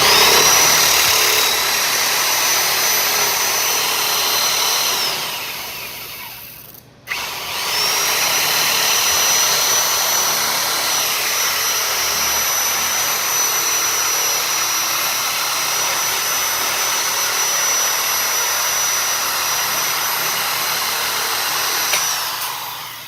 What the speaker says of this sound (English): That would be difficult to do with any other tool other than the double cut.